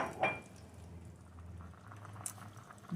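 A pot of yams simmers and bubbles softly in a quiet room, with a low steady rumble and faint gurgling throughout.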